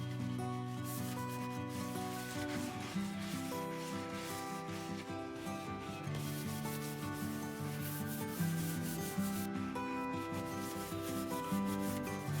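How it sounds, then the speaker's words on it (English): A sink is scrubbed with homemade soft scrub cleaner and a scrubber, a steady close rubbing and scraping that continues throughout with a rhythmic back-and-forth texture. "This soft scrub does a fabulous job cleaning the sink"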